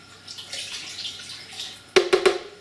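A cup of water poured into a pot of low-sodium chili, heard as a short burst of three quick splashing gushes near the end, preceded by soft cooking noise.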